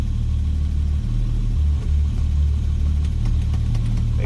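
A 1973 Triumph GT6 Mk III engine runs steadily at a smooth idle, a close, low, even rumble with no voices over it.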